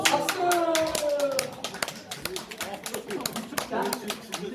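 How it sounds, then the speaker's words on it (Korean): Applause for a prize draw winner at a fan meetup, hand claps scattered and uneven rather than a dense roar, with a voice and other voices chattering over it throughout. "박수."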